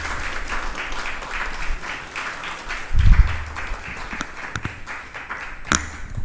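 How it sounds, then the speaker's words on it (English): An audience at a university journalism prize event applauds with rhythmic, moderately loud clapping, joined by a low thump and a few sharp taps partway through. "Please give Michael Lund a bigger round of applause."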